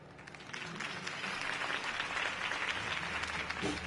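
Crowd applause rises and holds steady after Harvey Dent's campaign speech in the Batman Telltale game, a dense wash of clapping filling the moment with no voices over it.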